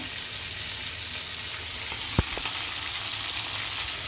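Chicken pieces frying in a pan, making an even, continuous sizzle at close range, with one brief sharp tap near the middle and no speech.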